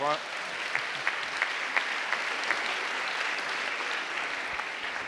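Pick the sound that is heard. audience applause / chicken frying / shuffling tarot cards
audience applause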